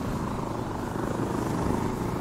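A Black Hawk helicopter in the shooter game Insurgency Sandstorm roars close and loud, a steady thick rotor drone with constant low chopping throughout and no voices.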